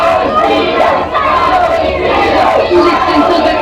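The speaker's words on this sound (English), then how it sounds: "Listen to the crowd cheering her on." Loud crowd cheering and roaring at a women's wrestling match, a continuous dense wall of voices with no pause.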